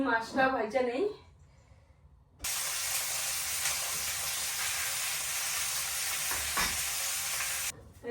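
After a brief moment of talking, hot oil in a wok erupts into a loud, steady sizzle of frying fish that continues for several seconds before cutting off.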